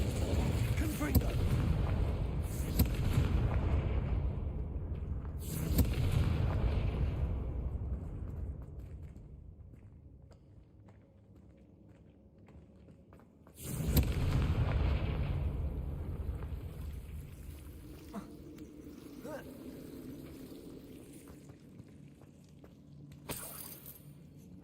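Confringo blasting spells in the Hogwarts Legacy video game: two heavy booming explosions, each with a sharp onset and long rumbling decay, the second following after a quiet stretch with distant mechanical rattles.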